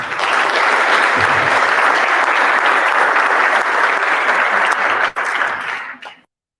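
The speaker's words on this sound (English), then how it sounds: "Let's give the candidates a round of applause." Audience applause at a youth-led candidates forum, dense steady clapping from a crowd that fades out after about six seconds.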